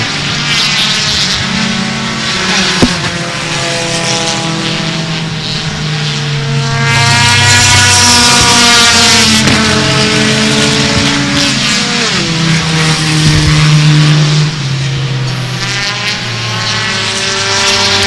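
Bomber-class race cars roar around a speedway at a championship race night, engines loud and continuous with rising and falling passes and pitch sweeps as cars go by, no talk heard.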